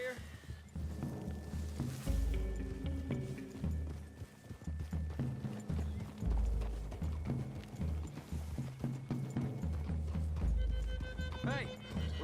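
Horses walking through woods in the Red Dead Redemption 2 video game: continuous, soft clip-clop of hooves under a dense wash of music and ambience, moderately close.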